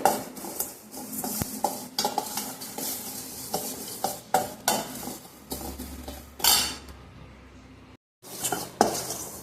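Fenugreek, cumin and mustard seeds dry roasting in a pan for amla pickle, with a spoon repeatedly scraping and clinking against the metal in quick uneven strokes, a faint dry rustle beneath, and a brief pause near the end.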